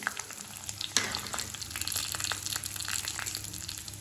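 Tempering seeds, cumin and dried red chillies fry in a hot pan for ivy gourd chutney, giving a steady close sizzle with a brief clatter near the start.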